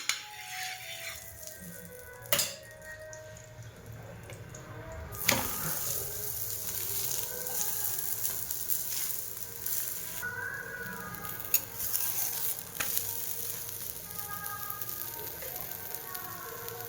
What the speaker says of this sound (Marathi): चांगला असा उलटून पालटून भाजायचा।